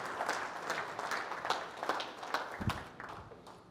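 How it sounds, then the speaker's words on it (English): A modest audience claps at the end of a talk at the WFDA 2024 event. The clapping is fairly quiet and loosely rhythmic, with a few distinct claps standing out as it tapers off. "You can clap if you want."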